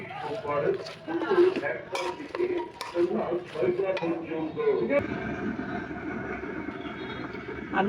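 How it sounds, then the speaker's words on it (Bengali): Ground spices, including coriander and cumin powder, stirred together with a spoon in a bowl, giving light clinks and scrapes under a talking voice, followed by a steadier rustling mix. "আমি এবার সব মশলাগুলোকে ভালো করে মিক্সড করে নেব একসাথে"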